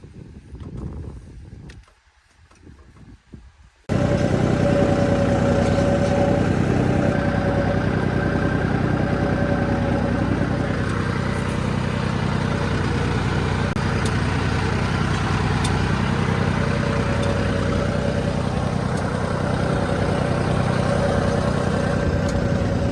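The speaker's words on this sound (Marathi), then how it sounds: "सूरज आहे बघा ट्रॅक्टरमध्ये, सऱ्या सोडला आता निम्म राहिले एवढं." A tractor engine roars steadily and close by while cutting furrows in a field, kicking in after a few seconds of quieter rustling and then droning on without a break.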